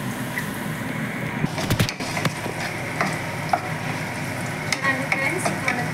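Onions frying in oil for a spicy mutton biryani, a steady close sizzle throughout with a few light clinks of stirring.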